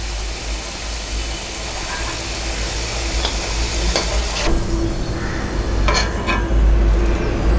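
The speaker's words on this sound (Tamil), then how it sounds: "இதை நல்லா பொன்னிறமாக வறுத்தெடுத்துக்கலாம்" Potato pieces frying in an oil-filled pan until golden, a continuous dense sizzle close up with a low steady hum beneath, no voices.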